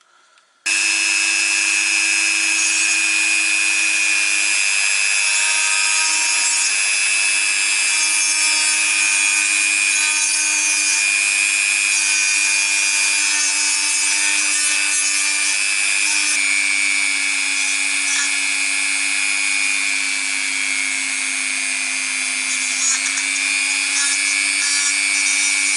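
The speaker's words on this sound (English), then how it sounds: "Now I'll have to smooth the edges in here." Wood edges are smoothed on a small scratchbuilt crossing-signal model, giving a continuous, close, steady high rasping hum that runs unbroken for the whole stretch with a slight shift in pitch midway.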